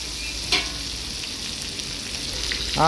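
Turmeric-coated village chicken fries in a pan with a constant close sizzle, broken by a scraping stir stroke early on and a louder clatter of utensil against the pan at the end.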